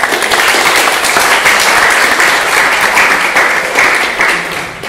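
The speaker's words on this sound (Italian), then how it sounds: "vi prego come sempre di accoglierla con un breve applauso" Loud, dense applause from an audience welcoming a speaker to a lecture, sustained and even before fading slightly at the end.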